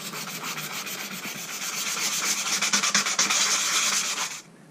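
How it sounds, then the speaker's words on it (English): Sandpaper rubbed by hand along a Bps Adventurer knife blade to strip rust: a close, continuous rasping scrub with quick rhythmic strokes that builds in intensity, then stops abruptly. "sanded it all the way up to 600 grit"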